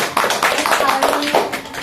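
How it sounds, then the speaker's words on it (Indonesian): A small group of students in a classroom counseling session claps together, a short burst of close, uneven hand claps with faint voices mixed in. "kita beri tepuk tangan dulu"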